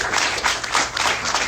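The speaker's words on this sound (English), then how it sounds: "let's give them a round of applause" A crowd applauds panelists at a healing-themed event in a brief, dense burst of many hands clapping, full and fairly loud, with no speech over it.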